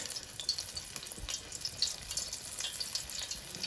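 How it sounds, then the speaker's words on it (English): Shrimp frying in hot oil in a pot gives a steady, crackling sizzle with scattered pops, fairly close and even throughout. "get your shrimp, and then we're going to put it in the oil"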